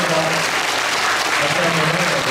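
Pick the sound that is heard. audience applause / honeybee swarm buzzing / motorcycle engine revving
audience applause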